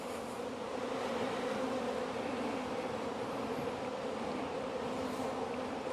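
Honey bees buzz around beehives in an apiary yard on a fine day, forming a continuous, even drone at low level with no talking.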